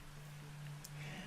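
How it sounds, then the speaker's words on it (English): Rain falling in modded Minecraft 1.12.2, a soft, steady patter of drops over a low constant hum, faint and continuous throughout. "And it's raining."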